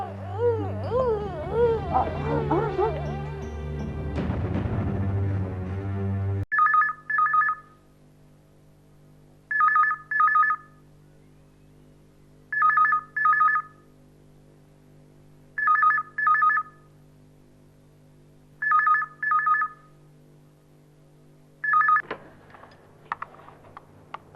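Telephone ringing during a call, six evenly spaced double trill rings over a quiet steady hum, following an opening burst of music and raised voices.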